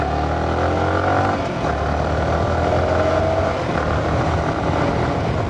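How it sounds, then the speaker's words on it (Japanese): A Yamaha YZF-R15 motorcycle engine drones steadily and fairly loud from onboard, with pitch rising and dropping in short steps as it shifts up through the gears to fifth, no talk. "今ポンポンポンポンってギアアップして5速まで入ってるんですけども"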